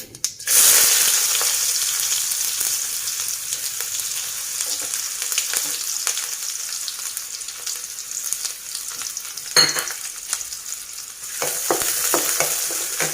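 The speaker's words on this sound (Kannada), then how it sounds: "ನಾನು ಇದಕ್ಕೆ ಈರುಳ್ಳಿಯನ್ನು ಆ್ಯಡ್ ಮಾಡ್ಕೊಳ್ತಾ ಇದ್ದೀನಿ." Chopped onion dropped into hot oil with crackled mustard seeds and cumin gives a loud burst of sizzling that settles into a steady fry, broken by occasional stirring scrapes.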